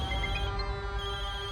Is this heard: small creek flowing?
no